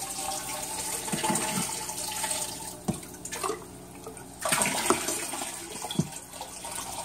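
Water runs into a home fish tank through a Python hose during a water change, a steady splashing flow with gurgles and bubbling surges, alone with no voices.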